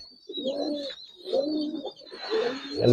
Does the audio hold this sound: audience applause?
no